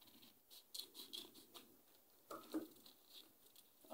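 Craft paper pages are cut by hand, making faint, soft snips and light papery scratches spread over a few seconds in a quiet room.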